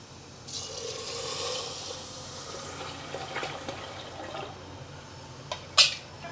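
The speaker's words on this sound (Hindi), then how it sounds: "अब इसमें 4 से 5 गिलास पानी डाल देंगे।" Water poured into a cooking pot while making mung-based khichda (mutton sola) for Muharram, a steady splashing fill running several seconds at moderate level, ending with a brief sharper clink.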